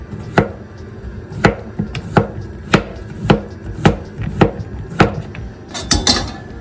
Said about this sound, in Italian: iniziamo tagliando la zucchina, togliamo le parti che non ci servono, così facilissimo, e poi andiamo a fare delle fettine